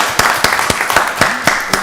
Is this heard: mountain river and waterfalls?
no